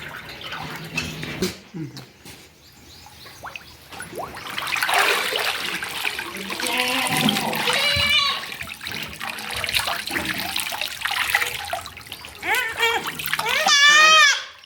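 A hand swishes and splashes through goat dipping solution mixed in water, used for external parasite control, with a voice talking over the watery sloshing.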